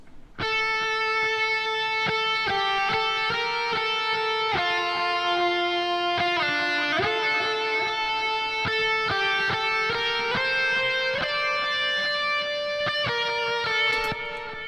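A clean electric guitar plays a simple melodic lead, sustained notes echoing with repeating ping-pong delay and reverb, steady and fairly loud throughout.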